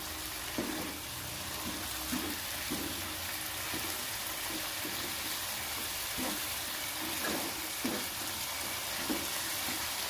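Bolognese sauce sizzles steadily in a pan for spaghetti, with repeated soft scraping knocks from a spoon stirring it at an irregular rhythm, close and moderately loud, with no talking.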